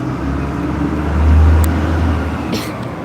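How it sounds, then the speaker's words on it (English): A car passes nearby with a steady low engine hum and road rumble that swells to a peak midway, then fades slightly, heard alone without talk. "You can hear the car."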